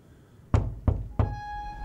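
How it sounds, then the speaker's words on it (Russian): Three loud, sharp knocks on a house door in the horror game The Beast Inside, evenly spaced and close, followed by a lingering tonal hum. "Опа, в дом постучали."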